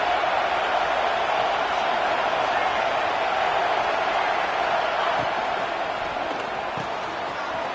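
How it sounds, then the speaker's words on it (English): Large football stadium crowd at a Florida versus ASU game, a steady broad roar of cheering that holds loud throughout with no clear breaks, likely with some announcer talk mixed in. "This crowd ready to make its presence known."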